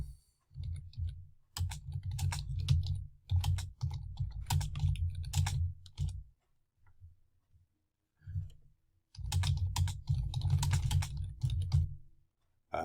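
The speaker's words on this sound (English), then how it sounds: "we're both typing at the same time" Two people typing on computer keyboards during a remote troubleshooting session, with bursts of quick, close clicking that pause twice before resuming.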